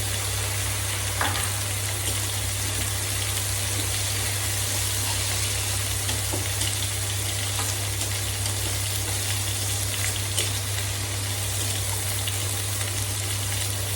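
Shrimp and onions fry in a pan with a dense, even sizzle that stays loud and constant over a low steady hum, with occasional faint clinks.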